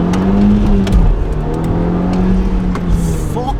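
An Audi S3 8P pulls hard in first gear, its engine note loud and close, rising and then dipping briefly at a shift point before climbing again with a steady, throaty drone.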